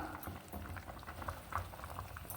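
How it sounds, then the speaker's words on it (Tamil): Coconut chicken curry boiling in a pot: a soft, steady bubbling and gurgling of thick liquid, quiet and close, running continuously for a couple of seconds without any voices. "நல்லா கொதி வந்துருச்சு."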